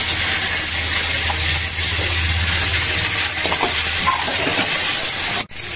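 Oil and turmeric sizzle loudly in a wok for a broccoli egg curry, a close, continuous frying hiss with faint stirring scrapes before a sudden cutoff.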